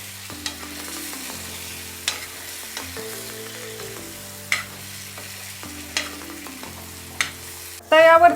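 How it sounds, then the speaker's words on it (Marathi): Stuffed green bell peppers fry in a spicy masala, giving a soft sizzle under periodic sharp clicks of stirring, with a steady low tone of music beneath and a brief louder burst at the end. "आपल्याला मिरच्याही या मसाल्यामध्ये छान फ्राय करून घ्यायच्या आहेत।"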